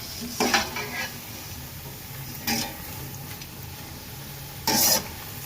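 Methi gathiya fry in hot oil with a soft continuous sizzle, interrupted by three brief clattering bursts as the pieces are turned over with a utensil.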